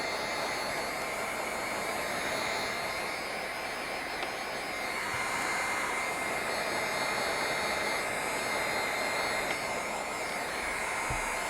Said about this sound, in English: if you're using a heat tool, don't let it get too hot